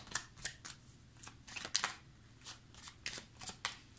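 Divination cards are laid down one after another onto other cards on a table, producing a series of crisp, close snaps and light slaps in an irregular rhythm, with no talking.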